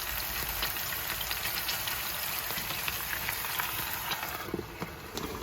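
Onions sizzling while cooking, a steady crackling hiss that stays fairly even throughout, close and moderately loud with no talk.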